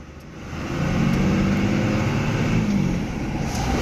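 Red Dodge Dually truck with a 12 valve Cummins diesel engine running, a steady low rumbling idle that swells slightly, close and loud, with no talk.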